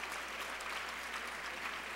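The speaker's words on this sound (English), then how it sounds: "Let's clap for her." Guests at a women's luncheon clap in tribute, a continuous, even wash of applause from a room full of people that carries on for two seconds without any voices.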